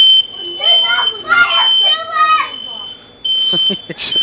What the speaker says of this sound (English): Got that stupid alarm system put in. Every time they cook, the alarm goes off.